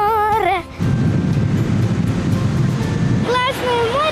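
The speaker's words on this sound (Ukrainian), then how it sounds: "Може на море підемо, там шумить." Steady, loud surf rushes along the sea shore beside a children's camp in Ukraine on a windy day, with voices speaking briefly at the start and end.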